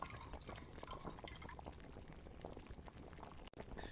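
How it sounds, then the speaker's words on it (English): Rat fricassee bubbles in a pot of Brahmin milk, a steady, quiet, continuous boiling and bubbling, close and alone with no talking. "let's let it boil another 15 minutes"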